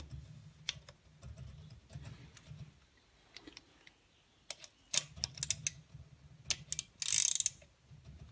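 A wrench tightens the Maxle thru-axle on a Niner RLT 9 RDO bicycle, giving quiet ratcheting clicks in short bursts. Louder clicks and handling noises follow near the end, close up and without talk.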